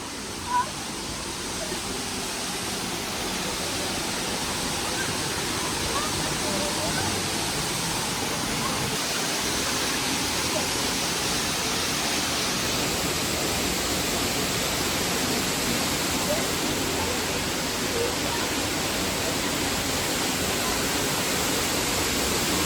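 A waterfall near Shillong roars in a constant, broad rush that stays even throughout, with faint voices now and then beneath the water.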